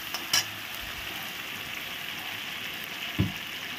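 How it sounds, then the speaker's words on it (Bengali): Spice mix for spicy bori sizzles steadily in hot oil in a pan, a soft continuous hiss with a couple of brief clinks from stirring near the start and again toward the end. "দিয়ে একটু ভালো করে কষিয়ে নেব।"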